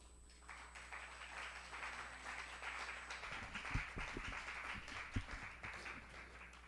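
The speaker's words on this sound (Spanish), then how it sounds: "para quien pido un fuerte aplauso de bienvenida" Audience applause welcoming Dr. Carlos García Bedoya at a literature-month lecture, a steady, fairly faint wash of clapping that swells after the first half-second and carries on throughout, with a few louder thumps and no talk.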